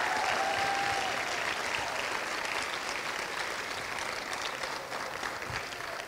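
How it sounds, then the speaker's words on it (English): Sustained applause from a chapel audience at a university honors day ceremony, steady and dense clapping that fills the room throughout and tapers slightly toward the end. "go ahead and give her a round of applause"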